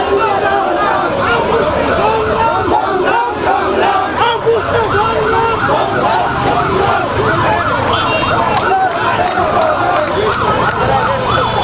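Protesting primary school teachers chanting slogans in a dense, loud crowd on a street march met by police, voices overlapping in continuous rhythmic shouting with a siren-like wail running through.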